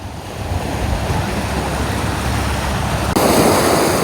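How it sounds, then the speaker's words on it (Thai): Sea waves wash near a campsite on a cloudy, rainy coast, a loud steady surf rush mixed with wind buffeting the microphone, growing brighter near the end. "อยู่แคมป์ฟังทะเลเลย"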